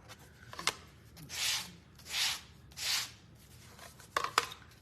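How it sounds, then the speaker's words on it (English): Three slow strokes of 80-grit sandpaper rubbed by hand across a wooden sign, each a soft close rasping swell, framed by a few light knocks and taps of handling. "And I'm gonna sand them very similar to the way that I did the Proverbs sign. So this is 80 grit."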